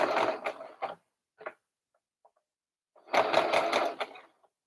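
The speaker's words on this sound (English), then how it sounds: "We're going to reverse stitch here" A sewing machine reverse-stitching fabric for a doll top runs in two close bursts of rapid mechanical whirring, separated by a quiet pause with a few faint clicks.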